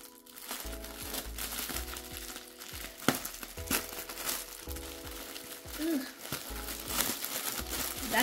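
Stiff plastic packaging crinkles and crackles as it is cut and pried open with a knife, close and fairly busy for several seconds, with people talking over it.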